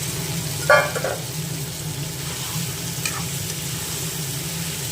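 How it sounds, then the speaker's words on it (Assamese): Chicken frying with spices in a pan, a steady close sizzle with one brief stirring clatter early and a fainter scrape later. "চিকেনখিনি অলপ ভাজি ল'লোঁ"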